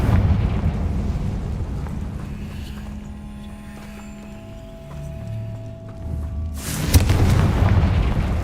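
Spell explosions from Bombarda and Confringo in the video game Hogwarts Legacy: heavy booming blasts and rumble, with a sharp loud burst near the end over continuous game noise.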